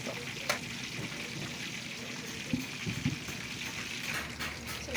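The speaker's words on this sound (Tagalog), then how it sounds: "kumukulo na siya" Chop suey bubbles in a covered pot, a continuous soft simmering hiss with a few light knocks and pops scattered through it, heard close up.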